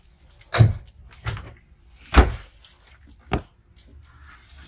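Several wooden thuds and knocks of a wardrobe door and drawers opening and shutting come at uneven intervals, close by in the quiet bedroom of a 2024 Keystone Cougar fifth wheel RV.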